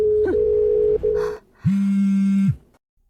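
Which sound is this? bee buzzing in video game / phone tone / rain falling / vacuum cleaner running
phone tone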